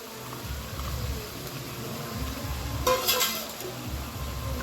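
Fried prawns tipped into a pan of sizzling spices and stirred, with a steady low frying hiss, scraping of a spatula against the pan and a brief louder clatter midway.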